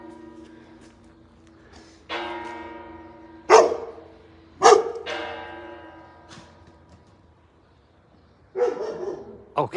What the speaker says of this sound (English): I can hear you, dog.